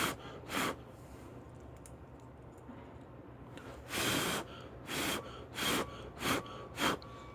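Six short breathy puffs of air blown at a cheap $5 fidget spinner and a $10 aluminum one: one early, then a rapid series of gusts spaced under a second apart, close and fairly loud against a quiet room.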